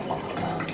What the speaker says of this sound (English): you rinse it with warm water